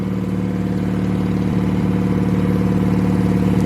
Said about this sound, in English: 40-year-old lawn tractor, and I was able to get it running